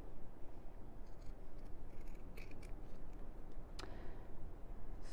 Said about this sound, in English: So let's cut out two little circles.